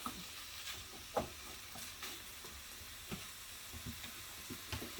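Ground beef browns in a pan with a low, steady sizzle, punctuated by scattered scrapes and clinks from a stirring utensil, fairly quiet and close, with no talking.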